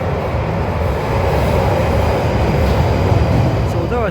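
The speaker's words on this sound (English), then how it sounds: "Oh, another train." A London train rumbles past at close range, a dense, steady roar of wheels and rail noise that holds loud and even throughout, with a faint squeal near the end.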